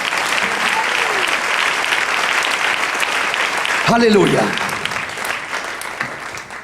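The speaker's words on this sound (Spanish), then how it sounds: "Denle ese aplauso al Señor." A church congregation applauds loudly and continuously during a sermon, with voices and a shouted exclamation rising above the clapping partway through.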